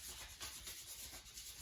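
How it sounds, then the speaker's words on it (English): Sandpaper rubbing across a homemade PVC bow, soft rhythmic scraping strokes, close and faint, with no voices. "we're sanding all the parts of our bow"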